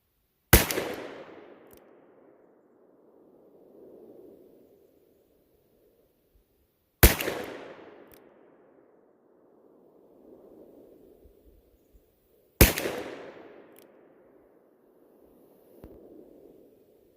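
Three loud, sharp shots from a Smith & Wesson 686 Plus Deluxe 6-inch revolver loaded with Federal and Magtech soft point rounds, spaced about six seconds apart, each followed by a short ringing decay.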